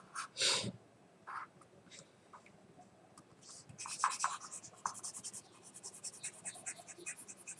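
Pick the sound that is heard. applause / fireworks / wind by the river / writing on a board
writing on a board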